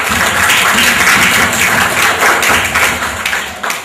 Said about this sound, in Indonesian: kita beri aplaus untuk Mas Fajar.